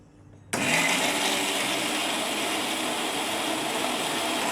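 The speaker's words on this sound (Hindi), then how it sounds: "बाद में मिक्सर में इसका फाइन पेस्ट बना लेंगे।" A kitchen mixer grinder starts abruptly and grinds cooled fried onions into a fine paste, running as a loud, steady, close whirring roar after a brief quiet moment.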